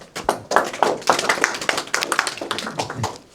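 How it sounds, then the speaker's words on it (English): Applause from an audience at a talk at the Heritage Gallery, with steady close clapping for a few seconds before it thins out. "You keep on getting clapped"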